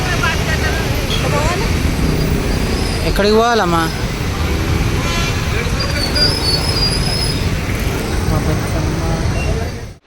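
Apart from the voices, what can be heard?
heavy road traffic with horns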